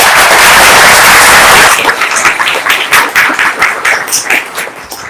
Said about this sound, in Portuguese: Mais uma salva de palmas para todos.